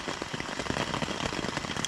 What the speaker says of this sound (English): now it's like a light rain, and it's just pitter-patting on our tent